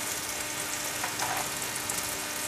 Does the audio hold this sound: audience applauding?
no